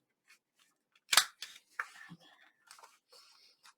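Scissors cutting through a stack of junk journal gatefold pages, one loud crisp snip followed by a few softer cuts and rustles, close and fairly quiet, with a low voice murmuring between.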